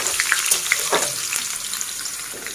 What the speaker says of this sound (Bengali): তাই এই আলুগুলো একটুখানি ভেজে নিচ্ছি